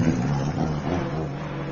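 A Ford Fiesta rally car on a forest stage drones at a distance, a steady engine hum with a faint rise in pitch and no speech.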